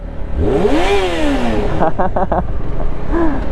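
A motorcycle engine revs up and back down in a rising and falling whine, followed by a few quick throttle blips and a final short rev, heard close in traffic with faint background noise.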